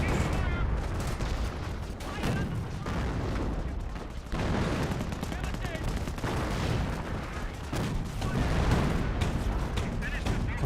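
Continuous gunfire and artillery from a Company of Heroes World War II battle with Panzer and commando units, a dense, loud wash of shots and blasts throughout with no pause.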